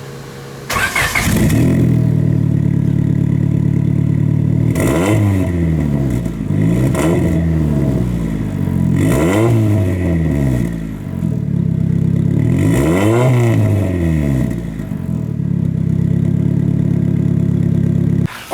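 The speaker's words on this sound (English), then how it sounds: "that's the exhaust note, the exhaust sound, and you know, they're cheap eBay exhaust" Honda Civic fitted with a cheap eBay aftermarket exhaust cranks and fires up, then idles with a raspy drone between several sharp revs that climb and fall back. It sounds loud and close, with no talking.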